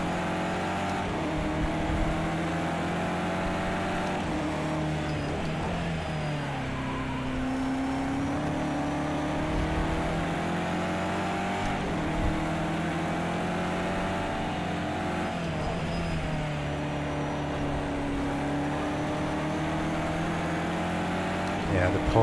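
Porsche and BMW race cars in a racing video game at Oulton Park International, engines droning steadily with shifting pitch as they chase closely, continuous and fairly loud under a low voice.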